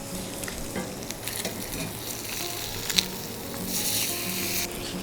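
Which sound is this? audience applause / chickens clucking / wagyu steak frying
wagyu steak frying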